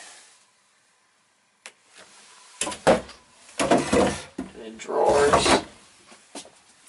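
Wooden drawers in a 1969 Shasta 1400 travel trailer slide open and shut with a few short knocks and rumbling scrapes, mixed with people talking.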